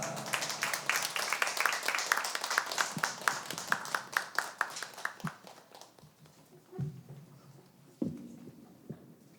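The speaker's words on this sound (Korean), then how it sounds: "나오실 때 큰 박수로 좀 부탁드리도록 하겠습니다." Church congregation applauding as a guest speaker comes forward at a worship service, a loud burst of many hands clapping that thins out into scattered claps, then a few bumps and footsteps.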